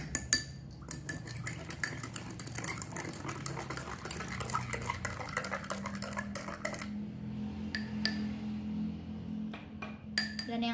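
Spoon stirring a sand mixture in a glass, a run of quick gritty scrapes and light clinks against the glass, close and fairly quiet, pausing midway before resuming with sharper taps.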